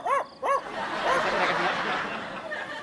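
A dog gives two quick, close barks, followed by a noisy stretch of crowd laughter and murmuring, in an Indonesian comedy show setting.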